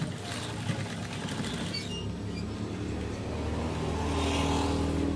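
A sewing machine stitching curtain fabric: a steady, fast mechanical whir and rattle that runs the whole time, slightly louder toward the end, with no speech over it.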